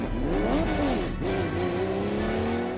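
A Porsche rally car at a classic car rally, its engine loud and close with rising revs, a brief dip near the middle, then a steady sustained drone.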